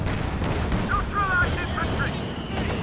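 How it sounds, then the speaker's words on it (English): Battlefield gunfire and explosions from Company of Heroes 2, with a Panzer IV firing in a 2v2 match, form a dense continuous rumble of booms and shots while a commentator talks over it. "Gunfire on the Panzer IV though."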